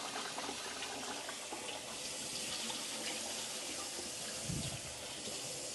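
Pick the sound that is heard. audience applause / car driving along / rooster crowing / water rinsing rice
water rinsing rice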